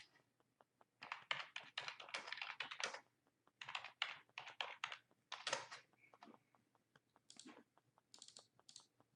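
Steady typing on a computer keyboard, quick clusters of key clicks coming in bursts with short pauses between them, close and fairly quiet, with no voices.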